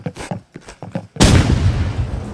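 A grenade explosion in the video game Rivals bursts loudly and close, its broad rumble sustained after a few short clicks and thumps.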